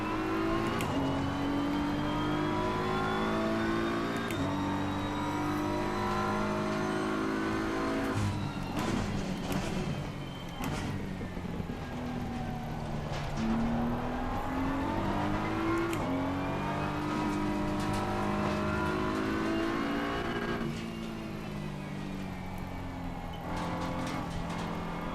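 Race car engines in a Kyalami sim race video game, loud on-board engine repeatedly revving up and dropping through gear changes, with other cars in traffic close by.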